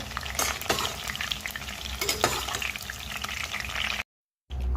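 Cauliflower fries in oil with a steady close sizzle and hiss, broken by scraping stirs and clatters, then a brief silent gap before the frying resumes.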